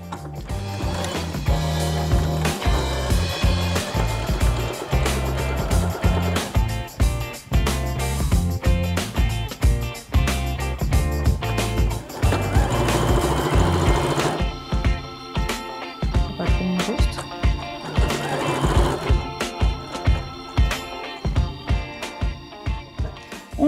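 A sewing machine runs steadily as it stitches fabric for a women's headband, 1 cm from the top edge down to the notch. The mechanical whir and clatter keep going with brief pauses, and no one speaks over it.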